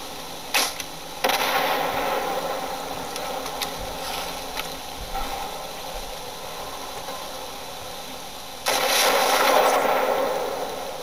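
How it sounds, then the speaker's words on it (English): Heavy 40 mm cannon and rocket fire in a video game, heard as a few sharp broadband bursts, then a sustained loud roaring blast near the end over a steady background rumble. "you'll have to nail it with a 40 mil first and then hit it with a rocket"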